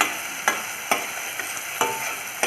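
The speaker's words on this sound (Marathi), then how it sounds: "इथे मी टोमॅटो पण घालून घेतला आहे" Tomato fries in a pan for misal with a loud, steady sizzle, broken by four or five sharp scraping strokes of a spoon stirring at a regular pace, with no speech.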